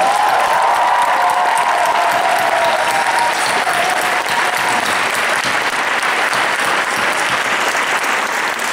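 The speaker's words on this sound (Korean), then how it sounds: "이 뒤에서 고생하신 여러분들 위해서 큰 박수 한번 보내주세요" At the curtain call of the Korean musical Hero, the theatre audience gives the backstage staff a big round of applause, loud sustained clapping with scattered cheers and a faint held tone early on.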